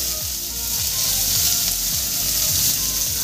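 Chopped onion goes into hot oil with finely cut garlic, and a loud, dense sizzle holds steady, with soft rhythmic scraping under it as it is stirred, for a chicken kachori filling, with no voices.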